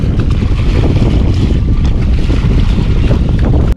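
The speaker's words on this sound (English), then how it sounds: "It's a bit windy, but we've seen worse." Strong wind buffets a small boat off Oahu, Hawaii, with steady, loud roaring gusts and a wash of sea water, continuous throughout with no voices.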